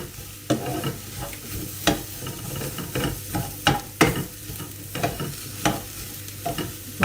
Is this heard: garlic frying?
yes